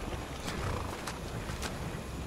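A horse in the video game Skyrim, with soft snorts and breathy whinnying sounds and faint hoof clops over a dense, steady game ambience, brief and at moderate volume.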